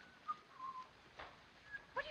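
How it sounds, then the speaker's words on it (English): A man whistles a short tune alone in a 1935 film, with a few thin melodic phrases over a quiet background. "Oh, do stop whistling."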